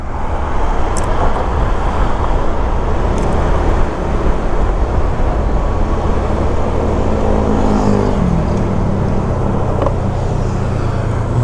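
A Honda Click 150 scooter engine runs steadily, a loud continuous motor drone with road noise, rising slightly in pitch near the end as it accelerates, with no talking.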